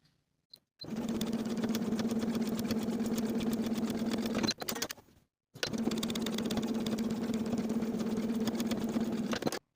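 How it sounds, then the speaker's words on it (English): A sewing machine top stitches a curved seam on a denim skirt, running in two long steady bursts of rapid, even stitching separated by a brief pause, close and loud. "We're going to top stitch this curved seam twice, first at 1/8 of an inch, then once more at 1/4 of an inch."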